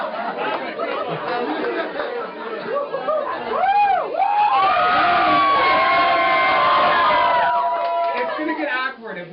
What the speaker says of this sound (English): If we keep cheering like that.